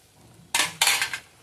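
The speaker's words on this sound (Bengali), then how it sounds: "এবার ঢাকা দিয়ে দেবো।" A metal lid goes onto a cooking pot of fish and potato curry, giving two quick clattering knocks close by, each followed by a brief ringing rattle before it settles.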